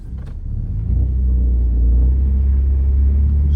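Car driving off after a wheel repair, a steady low engine and road rumble that swells over the first second and then holds, close and fairly loud.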